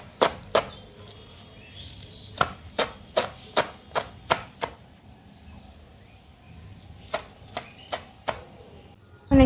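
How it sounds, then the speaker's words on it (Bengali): Fresh thankuni (Centella asiatica) leaves chopped finely with a knife on a board, heard as crisp, close knocks that come in quick irregular bursts with brief pauses, no talk. "থানকুনি পাতাগুলোকে খুব ভালোভাবে ছোট ছোট করে কুচিয়ে নিতে হবে"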